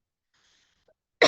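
A single sharp, loud cough from a lecturer giving an online class, bursting out abruptly after near silence.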